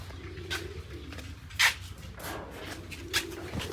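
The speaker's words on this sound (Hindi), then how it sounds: "इन कबूतरों को अंदर बंद करने के लिए काफ़ी दौड़ लगानी पड़ी है।" Pigeons kept in a farm room, cooing in several soft, repeated calls over a low steady background, moderately close, with a brief brighter rustle partway through.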